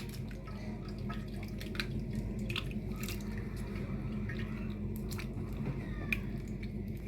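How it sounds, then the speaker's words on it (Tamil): Tamarind being squeezed and dissolved in water by hand while making a village-style crab curry, with soft wet squishing and dripping sounds over a steady low background, no speech. "ஒரு எலுமிச்சம் பெரிய பழத்தளவு புளி எடுத்து வச்சுருக்கேன். அதை நல்லா கையாலேயே நல்லா கரைச்சி எடுக்கணும்."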